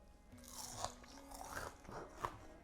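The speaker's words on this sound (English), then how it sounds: "Let's try the crunch again." Crispy fried kale chaat crunches under several close, quiet bites, each a brittle crackling burst in an otherwise hushed room.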